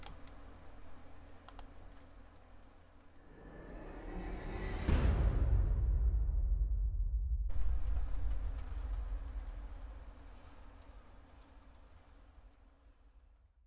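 Layered synthesizer patch in a neurofunk track, a rising swept riser that peaks into a loud, heavy sub-bass section with gritty mid textures, then settles into a sustained bass-driven passage that fades toward the end.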